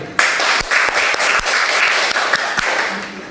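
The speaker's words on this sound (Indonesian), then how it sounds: "silakan beri tepuk tangan kepada teman kita yang barusan sudah melakukan presentasi dengan baik" Classroom audience applause after a group presentation in a teacher training practice session, a few close, uneven claps over a steady patter of clapping hands.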